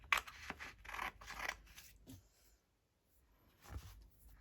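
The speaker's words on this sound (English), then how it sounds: "So I'm just going to trim that off so I don't get everything sticky." Scissors trim copy paper in a junk journal collage. A quiet, close run of crisp snips and rustles is followed by a short pause and then one more cut.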